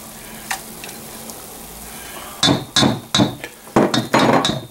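Cake batter mixed with tomato soup and baking soda gets a series of sharp, rhythmic spoon clinks and knocks against a bowl, loud and close, following a quieter stretch.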